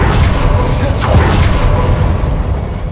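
In the Hogwarts Legacy video game, an Incendio fire spell gives off a loud, steady roaring burst that holds its level across the few seconds.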